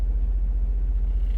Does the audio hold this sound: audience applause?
no